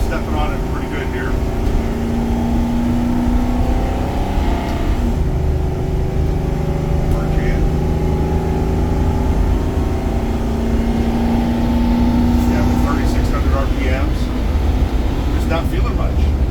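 A Fleetwood Southwind gas motorhome fitted with LiquidSpring suspension accelerating hard from about 30 mph, a loud, steady engine drone with rising tones heard from inside the cab, with occasional talking.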